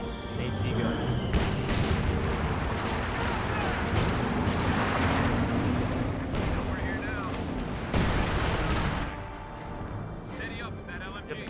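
Heavy artillery fire in Company of Heroes 2 booms and rumbles beneath a continuous stream of battle noise, with sharp gunshots scattered through it, while a commentator talks over the top throughout.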